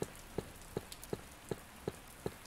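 Steady patter of rain in a farming video game, with a soft continuous wash and regular louder drop-like ticks about every third of a second, fairly quiet and heard alone.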